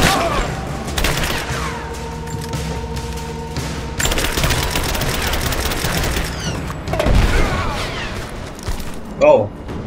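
Video game gunfire in abandoned mines, with bursts of rapid shots and booms crackling through the first half, then scattered shots and clatter, loud and close, with a voice talking.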